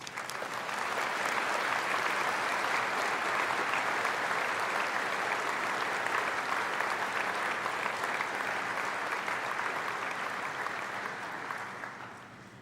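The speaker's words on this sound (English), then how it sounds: "Please join me in thanking them with a well-deserved round of applause" A graduation ceremony audience for the art and design class gives a long, dense round of applause, steady and loud throughout before fading slightly at the end.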